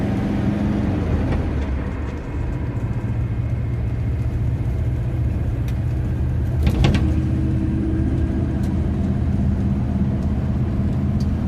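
A steady Ford Zephyr MkIV V4 engine rumbles from inside the car while driving at night around 45 mph as it warms up, with road noise and a brief rattle partway through.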